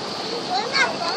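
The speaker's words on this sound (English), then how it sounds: "But this is the pool where the waterfall empties into." A waterfall emptying into a resort pool at Disney's Wilderness Lodge: a steady, broad rush and splash of falling water, fairly close and loud, with a voice briefly rising over it.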